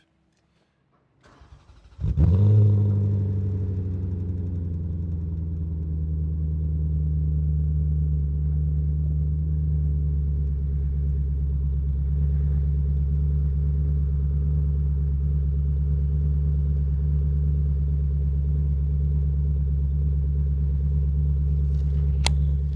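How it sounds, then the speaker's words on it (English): A 2005 Maserati GranSport Coupe engine starts with a sharp catch, then settles into a steady, deep, droning idle from the exhaust that continues unchanged for a long stretch. "I'll fire up the car and see what comes out of the exhaust. Hear the exhaust note."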